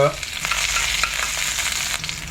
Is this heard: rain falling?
no